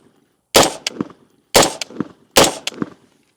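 Three sharp gunshots from a suppressed 10.5-inch ADM AR15 rifle at 10 yards, evenly spaced about a second apart, each a loud crack followed by a quick metallic clank and a short decay into silence.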